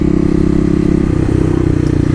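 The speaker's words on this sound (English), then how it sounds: "I said not to redline the motorcycle during the break-in period" A Kawasaki KLX250 motorcycle engine revs hard and steadily, a loud, close, continuous mechanical drone with a slight pitch rise partway through and no talking over it.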